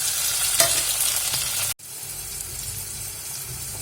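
Green chilies and chopped tomatoes sizzle steadily in a pan for a Kerala-style egg dal curry while a spoon stirs them, a loud continuous frying hiss with a brief cut partway through.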